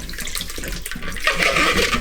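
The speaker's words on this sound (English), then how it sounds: "I'm just going to clean the insides now with all the sanitizer that I've just created, the solution" Sanitizer solution swirls and sloshes inside a beer brewing container, a brief close splashing of liquid that grows louder and more turbulent partway through, with no talk.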